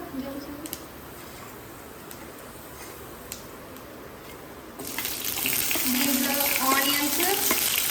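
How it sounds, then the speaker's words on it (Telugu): Green chillies drop into hot oil and a bright, crackling sizzle starts suddenly midway, continuing loud and close after a quieter, humming kitchen background. "పచ్చిమిరపకాయలు వేసేసుకుంటున్నాను అండ్ అలాగే కరివేపాకు కూడా"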